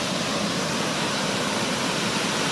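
A waterfall beside a riverside campsite under large trees gives a steady, dense roar of rushing water, loud and unbroken with no other sounds.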